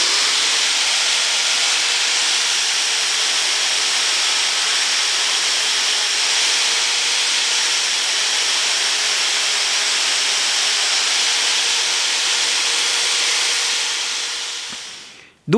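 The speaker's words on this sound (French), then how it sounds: "un rouleau de satinage qui est monté sur une perceuse qui elle-même est bloquée dans mon étau de forge" A satin finishing roller mounted on a drill clamped in a forge vise grinds against a piece of metal, a loud steady abrasive hiss with a constant whine that cuts off abruptly at the end.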